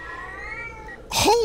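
A single sharp cat meow bursts out in the video game Erie, short and loud, following a quieter sustained tone with a low hum beneath.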